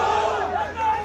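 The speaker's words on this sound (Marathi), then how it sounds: "आणि कार्यकर्त्यांचा जल्लोष।" BJP party workers cheer at a local election victory rally in Shirdi, a brief swell of shouting crowd voices that is loud and close.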